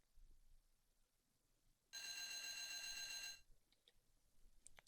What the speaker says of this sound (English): Now play the feeding time chime and as loud as you can.